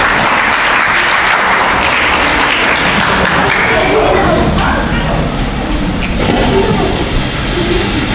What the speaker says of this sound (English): First Star, a round of applause for them